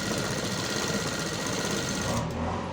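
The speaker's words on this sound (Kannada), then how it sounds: "ಹೊಲಿಗೆ ಹಾಕ್ತಾ ಹೋಗಬೇಕು. ಒಂದೇ ರೀತಿ ಹೊಲಿಗೆ ಹಾಕಬೇಕು." A sewing machine runs continuously, stitching lining onto a sleeve with a steady rapid mechanical whir, close and loud, that changes briefly near the end.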